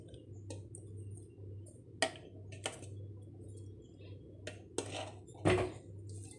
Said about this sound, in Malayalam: ഇനി ഇതെല്ലാം കൂടി ഒന്ന് മിക്സ് ചെയ്യുക.